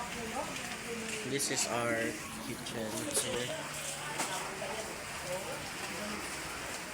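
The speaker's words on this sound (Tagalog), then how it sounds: "This is outside, it's raining and it's cold" Rain falling outside on a cold day, a steady soft patter heard behind a person talking nearby.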